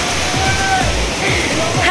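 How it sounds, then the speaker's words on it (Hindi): Steady roar of a mountain waterfall near a cave shrine on the Gangotri pilgrimage route in Uttarakhand, loud and continuous throughout, with a voice speaking over the rushing water. "झरना देखो मेरे पीछे।"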